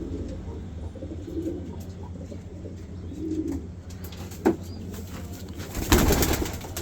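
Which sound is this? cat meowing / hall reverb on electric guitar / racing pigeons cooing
racing pigeons cooing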